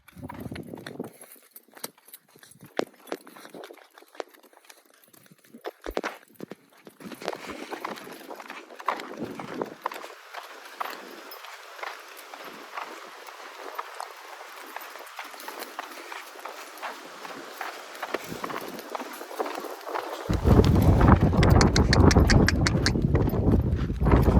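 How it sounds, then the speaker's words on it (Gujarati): A mare's hooves clip-clopping in a steady walking rhythm as she is led home along a farm path, close and clear, growing louder near the end. "જો ઘોડીને પાછી ઘર બાજુ લઈને જાય છે"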